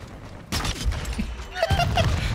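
Sniper rifle gunfire in the Call of Duty video game: two loud, sharp shots about a second apart, each cracking over a steady bed of busy game noise.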